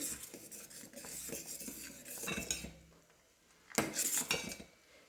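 A spoon stirs salted kanya, a broken-grain porridge, in a cooking pot. Close scraping and clinking strokes run for about three seconds, pause briefly, then return in a shorter burst.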